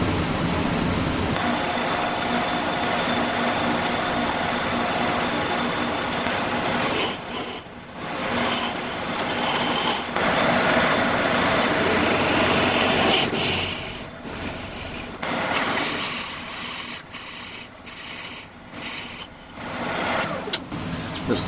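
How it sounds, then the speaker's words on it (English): A drill bit boring a hole through a cast metal part clamped to a CNC router table, a continuous loud broadband whir with engine-like drone that dips and varies as the bit bites, steady and close for over twenty seconds. "So we'll get started on drilling this hole now."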